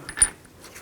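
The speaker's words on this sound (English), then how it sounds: "Put the washer on" A metal washer clinks onto the front hub axle of a 1999-2007 Chevy Silverado 2500HD, a brief close metallic tap followed by faint jingling.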